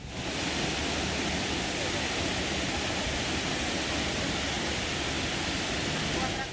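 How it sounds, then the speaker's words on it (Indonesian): Curug Mangkok waterfall in Pagar Alam, a natural, untouched forest setting, heard as a steady, dense roar of falling water that stays constant and loud throughout with no breaks. "Air terjun Curug Mangkok atau yang disebut Curug Mangkok oleh warga sekitar adalah bagian dari pesona alam yang masih alami dan belum terjamah."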